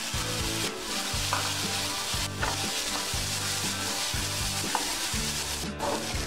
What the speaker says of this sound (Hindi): और कॉर्न को भी हमें लगातार चलाना है, 1-2 मिनट के लिए इसी में कुक होने देना